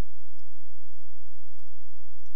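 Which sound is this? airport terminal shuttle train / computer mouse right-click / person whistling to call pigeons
computer mouse right-click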